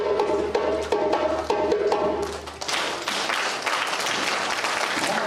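An audience claps along after a short musical call played slowly on an instrument; the melody comes first with its rhythmic notes, then a burst of dense group clapping fills the rest.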